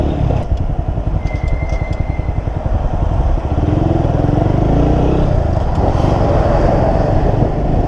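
A motorcycle engine, still in its break-in period, drones steadily and close while riding, its pitch shifting as the throttle changes, with no talk over it.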